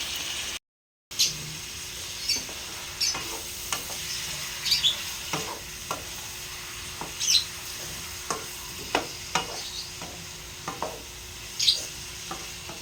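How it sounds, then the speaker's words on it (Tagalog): Pork for Filipino adobo sautés in a pan, a constant soft sizzle broken by regular scraping stirs of a utensil against the pan, close and with no one talking. "Yan, gisa-gisa lang muna."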